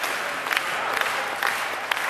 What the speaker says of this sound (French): Et ça, ça ne vous inspire même pas un petit peu d'applaudissement.